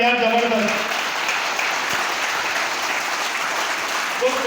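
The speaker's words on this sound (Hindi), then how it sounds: "एक बार अगेन एसएलपीएस के लिए जबरदस्त तालियां, जबरदस्त।" Loud, steady audience applause fills a hall at a business talk, dense and continuous from start to finish, with faint tonal traces of speech or music at the edges.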